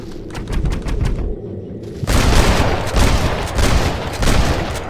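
Gunshots in a Red Dead Redemption shootout, loud rapid volleys of close gunfire with a short lull before a dense burst of overlapping shots and booming reports.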